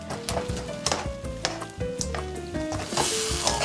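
Sea urchin roe sizzles in a hot pan with linguine, a close, lively crackle broken by quick stirring knocks and clinks, with no talking.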